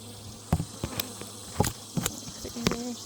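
Bees in an open hive brood box, a steady low insect hum with scattered sharp clicks and knocks from handling the frames, heard close up.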